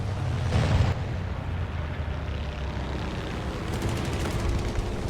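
Ki-61 Otsu Kai fighter in a flight combat game: a steady roar of engine noise with a burst of cannon and machine-gun fire near the start and faint rapid rattling later, loud and close with no talking.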